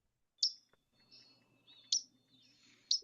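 A bird in a recorded playback gives three sharp high chip calls, loud and clear at roughly one-second intervals, with softer warbled song phrases between them over faint background hum.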